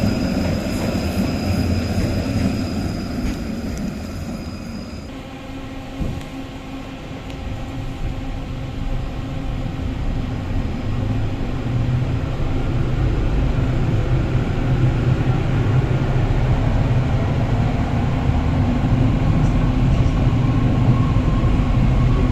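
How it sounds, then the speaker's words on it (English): An old Konstal tram, modernised, riding through Katowice, Poland: a continuous rumbling roll of wheels and motor heard from inside, with a brief high whine early on and the noise swelling as speed builds. "let's start this video off by taking a ride on an old constal tram"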